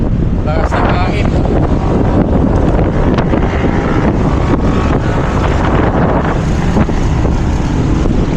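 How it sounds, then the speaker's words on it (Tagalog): Strong wind roars and buffets a microphone without letup, a loud rushing gust over muffled background noise. "Lakas ng hangin."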